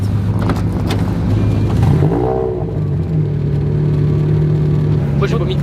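A Renault Clio 3 RS rally car starts from cold, its engine cranking into a steady, loud idle with a brief rise in revs, while people talk close by.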